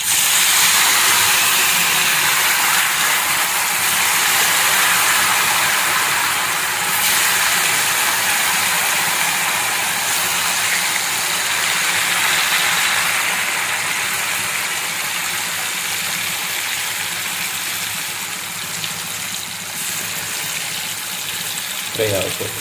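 A vegetarian seer fish fry cooking in a pan gives a steady, bright sizzling hiss that runs unbroken and fairly loud throughout, with no voices over it.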